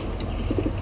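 Pigeon cooing from a female pigeon for sale, a few soft low coos rising late in the short burst against a steady background hum.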